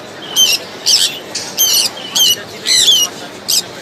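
Six shrill, high-pitched squawks from pet birds at a bird market in Mirpur-1, Dhaka, in a steady rhythm, loud and close, over a low hum of background noise.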